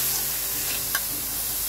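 Soaked red lentils fry in a pan with a constant close sizzle and a brief scrape of stirring partway through, steady and fairly loud with no voices.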